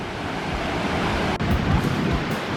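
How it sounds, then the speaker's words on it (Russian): A small forest waterfall in Vermont near the Canadian border gives a steady, loud, close broadband rush of falling water with some wind buffeting. "Такой маленький водопад."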